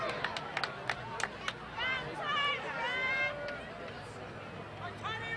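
Crowd at a 2007 high school football game, Placer Hillmen against Colfax Falcons, reacting to a penalty flag: a rising murmur and scattered shouts from the stands, with sharp claps and a few voices cutting through the broad background noise.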